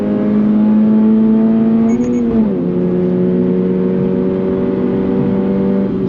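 A 2024 Subaru BRZ tS engine drones steadily and loudly from inside the car as it accelerates, its tone dipping briefly about halfway through, like a gear change, before holding strong again.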